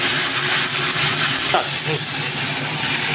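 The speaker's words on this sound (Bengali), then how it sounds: "আলু, বেগুন, শিমটা দিয়ে ভালো করে এটা কষাতে থাকবো যাতে ভাজা ভাজা হয়ে যায় সবজিগুলো" Potato, eggplant and bean vegetables stir-fry in a pan, a loud, constant sizzle with one brief utensil knock partway through.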